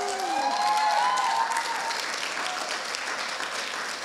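An audience at a motivational business talk applauds continuously and evenly, with a brief whistle-like tone near the start before the clapping settles into a dense, sustained patter.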